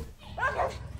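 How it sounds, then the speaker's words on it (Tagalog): A stray dog yelps and whines in a short, tense burst during a scuffle between strays, fairly close and loud over a low background murmur. "Guys, nag-away yung mga aso."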